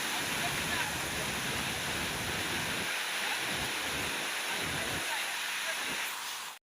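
A waterfall pours down a mountainside on a trek, giving a steady, loud broadband rush that holds evenly throughout and cuts off abruptly at the very end.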